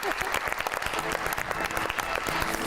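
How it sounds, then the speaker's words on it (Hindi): A studio audience at a Pakistani TV talk show applauds in a dense, lively burst of clapping, fairly close, with voices calling out faintly beneath the claps. "बहुत सारी तालियां"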